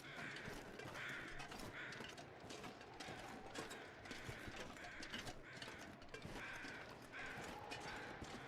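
Crows cawing in the survival video game The Long Dark, a series of harsh, repeated caws in an irregular rhythm, moderately close, layered over a steady rough background of wind and mechanical ambience.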